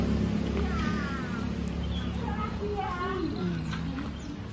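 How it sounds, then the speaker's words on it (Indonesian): A cat meows in a noisy home setting, its short wavering cries rising over a steady low hum and background murmur, with people talking nearby. "Kucing Ibu."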